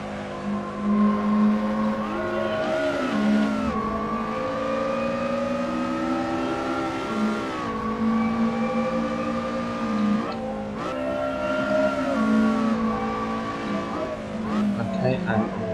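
Race car engine in the Assetto Corsa racing video game, a steady high-pitched whine that climbs through the revs, drops at gear changes and braking, and rises again over about sixteen seconds, with someone talking over it.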